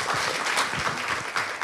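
An audience applauding panelists at a 2021 international higher education forum at National Cheng Kung University, a dense, steady patter of many hands clapping in a hall.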